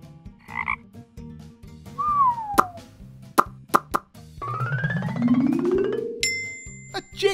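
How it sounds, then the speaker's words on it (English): A frog croaks in a cartoon-style sequence, joined by plops, a sliding whistle, sharp dings and a rising rumble, all close and fairly loud. "A frog."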